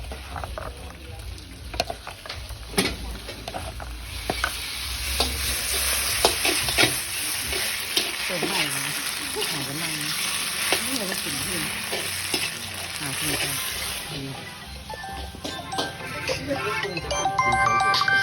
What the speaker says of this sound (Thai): จะทอดให้มันกรอบ